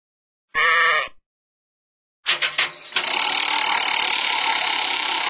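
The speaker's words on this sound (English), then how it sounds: "Sheep." One short sheep bleat rings out close and clear, followed by silence and then a loud, steady noisy rush.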